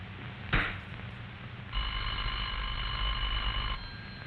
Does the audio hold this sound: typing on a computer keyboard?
no